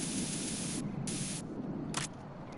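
An in-game spray can in Metal Gear Solid hisses in bursts: one long continuous spray, a shorter second burst, then a brief third puff, all heard over a steady low background hum.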